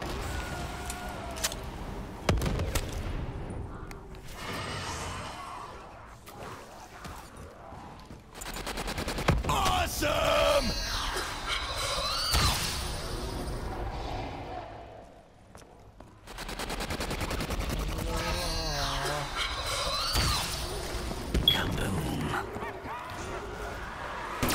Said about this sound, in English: Both of my guns have firework effects.